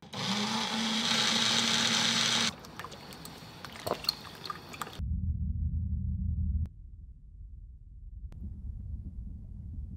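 Kitchen mixer from the film Sound of Metal, a loud steady whir for a few seconds, then abruptly cut to muffled, dull low rumble as hearing loss is simulated, with faint clicks and knocks.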